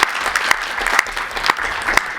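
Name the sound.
audience applauding speakers at a summit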